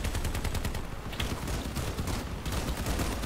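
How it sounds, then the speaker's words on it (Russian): Cannon fire from the vehicle combat video game Crossout, a vehicle-mounted gun with reduced recoil, sounding as a dense, continuous barrage of loud booming shots with no pauses. "у меня пушка с уменьшенной отдачей как раз-таки на этой машине стоит"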